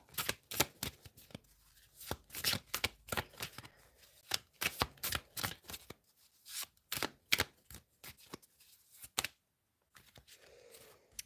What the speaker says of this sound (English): Let's get 3 cards for the one that's showing up for you.